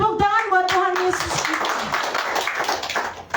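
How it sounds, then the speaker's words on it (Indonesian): A church congregation applauds after a sermon, with a short burst of voices first and then a sustained wash of many hands clapping, fairly loud and fading slightly toward the end. "Beri tepuk tangan buat Tuhan Yesus"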